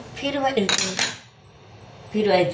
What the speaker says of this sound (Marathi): फिरवाय करता आपण रवीचा उपयोग करायचा